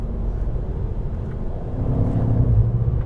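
A BMW M5 with exhaust flaps open accelerates on a race track, its deep engine rumble building steadily in loudness and pitch, heard alone from inside the car.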